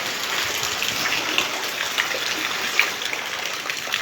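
Floodwater during Typhoon Tino rushes and gushes in a loud, steady torrent close by, a continuous churning wash with occasional splashes, no talk.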